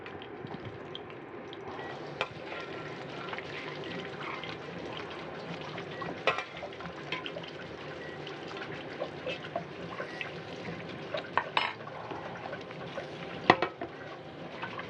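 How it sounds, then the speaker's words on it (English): Tap water runs steadily for hand washing in a kitchen during a cooking workshop, with soft splashes and small clatters over the flow and no talking. "Yeah, please wash your hands."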